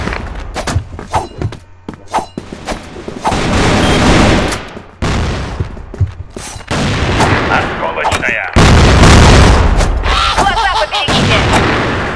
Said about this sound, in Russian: Ложись, граната! Световая.